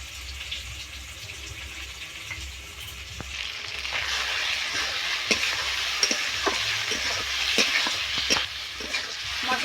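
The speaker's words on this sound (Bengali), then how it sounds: "মশলাটা আমি খুব সুন্দরভাবে কষে নেব। বেশ কিছুক্ষণ ধরে আমি এভাবে নাড়তে থাকবো মশলাটা।" Spice paste with Kashmiri chili powder and garam masala sizzles steadily in a pan while being stirred, a broad hiss rising partway through, punctuated by frequent scraping clicks of the spoon, close and continuous.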